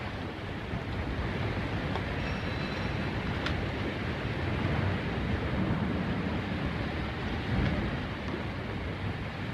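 Steady rumble of a train pulling out of a station platform in a 1945 British black-and-white film, a continuous broad noise with no clear speech over it.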